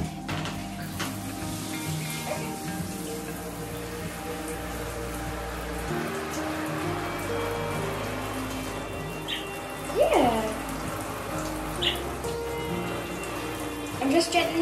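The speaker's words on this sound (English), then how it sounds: "we've turned the shower on and we're gonna clean the cage and the birds at the same time" Shower spray falling on pet budgies and their cage, a steady hiss of water with small splashes and a brief chirp partway through, fairly soft and continuous.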